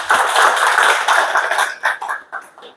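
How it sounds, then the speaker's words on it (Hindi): An audience at a gathering breaks into a dense burst of clapping, then it thins out into a few scattered, separate claps before stopping. "सो इनके लिए एक जोरदार ताली के।"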